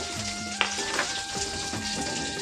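Steady sizzling of vegetables frying in a pan, likely okra and bitter gourd, with a couple of brief clinks of a utensil against it.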